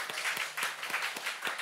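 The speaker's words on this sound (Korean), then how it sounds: "한번 일어나 주시면 박수 한번 하겠습니다" A church congregation clapping in welcome, a short burst of even, brisk applause with regular beats.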